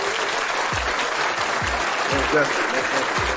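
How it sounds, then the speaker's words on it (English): A round of applause during a pregame talk show about a Rams vs 49ers game, steady clapping with low thumps and a faint voice mixed in underneath. "Let's give her a round of applause for that"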